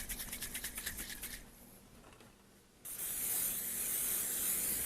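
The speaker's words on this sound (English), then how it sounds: "I'm going to use some cooking spray." Cooking spray hisses onto a pan in two bursts: a short pulsing spray, a pause, then a long steady hiss, close and fairly loud.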